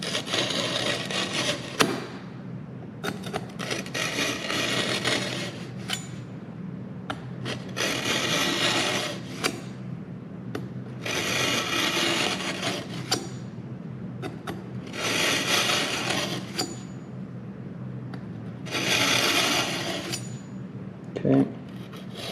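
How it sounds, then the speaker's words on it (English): Kitchen knife drawn over a sharpening stone in a shed, a steady rasping scrape repeated in long strokes with short pauses between passes, close and moderately loud. "It is time to do something that we probably should have done months ago, and that is thoroughly sharpen our knife"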